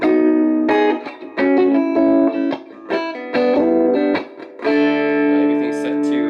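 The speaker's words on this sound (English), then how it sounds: "you guys can really hear that these TB Jones Duotron pickups definitely sound closer to the classic Filtertron" Gretsch Electromatic Center Block Jr electric guitar fitted with TV Jones Duotron pickups, played alone in short strummed chords and phrases with a twangy, bright tone and reverb, loud and close.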